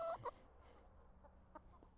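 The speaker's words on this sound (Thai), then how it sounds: "ไก่ตัวนี้ชื่อมันว่าอีโก้เป็นสีขาวกับสีดำเนาะหน้ามันคืออีโก" A chicken gives a couple of short clucks up close at the start, followed by soft, faint clucking and farmyard background.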